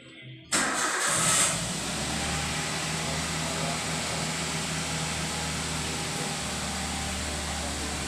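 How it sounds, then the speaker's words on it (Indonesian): A car engine cranks and catches at the start, then settles into a steady, close idle with a low hum; the key is turned on for an engine management diagnostic check. "Kita coba hidupkan untuk melihat data pada mesin ini secara keseluruhan."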